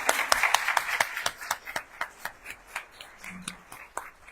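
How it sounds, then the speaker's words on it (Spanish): Scattered clapping from a small audience at a talk, sharp separate hand claps that start fairly full and thin out to a few spaced, slower claps near the end. "Un aplauso"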